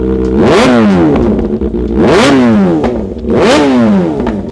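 A Ducati motorcycle engine revs hard three times in close succession, each blip rising sharply and falling back to idle, loud and close with no talk.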